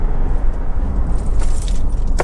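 Rumbling road noise inside a Honda CR-V 2.2 i-DTEC EX 4x4 under hard braking, with a bright jingle of keys sliding off the seat near the end, close by.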